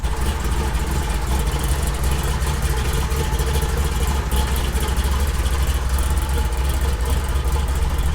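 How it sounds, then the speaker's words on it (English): A 1972 Chevy K20 truck with a built 510 big block engine running, a loud, steady, close idle with a deep rumbling chop and no talk over it. "It chops really hard. It's a 510 big block. It's pretty much a built motor."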